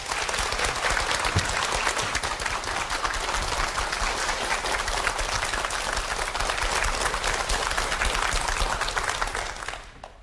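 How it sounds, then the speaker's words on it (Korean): An audience of women at a televised lecture applauds to welcome a feng shui lecturer, a loud, dense and continuous roar of clapping that holds steady for about ten seconds and then cuts off abruptly. "이수 원장님 여러분 큰 박수로 맞이해 주시기 바랍니다"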